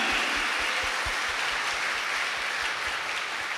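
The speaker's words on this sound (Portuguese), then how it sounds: "Uma salva de palmas para ele." Applause from a church congregation at a Sunday Mass for the third Sunday of Advent, a steady wash of many hands clapping that fills the whole moment without talk.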